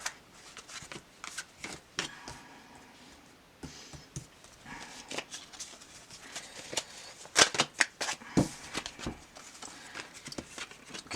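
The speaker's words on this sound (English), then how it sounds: "so I'm going to lay out these cards" Oracle cards being handled and laid down on a table, with soft sliding and quick taps and flicks, close up, no talking.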